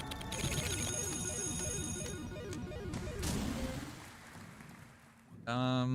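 A phone rings repeatedly in the CloverPit video game, its ringtone chirping over busy game sounds and music before a loud burst near the end.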